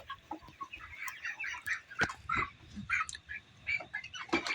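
Broiler chickens, 26 days old, cluck and squawk in a busy, overlapping chorus while being lifted and weighed, with sharp calls rising over constant nearby fowl chatter.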